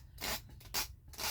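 Wood or paper edge being sanded by hand with a gator sanding block, three quick rasping strokes close up, with no talk.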